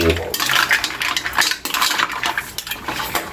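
A utensil stirring mussel and chayote soup in a pot, with quick metallic scrapes and clinks against the pot in an uneven rhythm, close and fairly loud.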